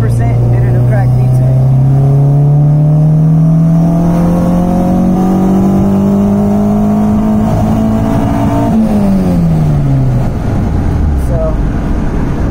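A car's engine accelerates at partial throttle, its tone climbing steadily for about eight seconds before the revs drop away, heard up close from inside the car.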